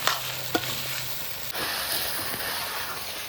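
Goat meat frying and being stirred in a pan, a steady close sizzle with a couple of sharp scraping knocks near the start.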